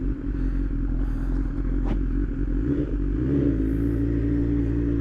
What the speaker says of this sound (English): bike sounds really good